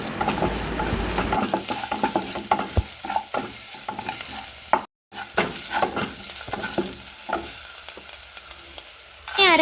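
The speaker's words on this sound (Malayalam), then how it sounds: "എന്നിട്ട് നല്ലപോലെ ഒന്ന് വഴറ്റി കൊടുക്കാം." Spinach greens sautéed with curry leaves and a pinch of turmeric, heard as loud, close scraping and stirring of a spoon against the pan over a constant frying sizzle, broken by one short gap of silence.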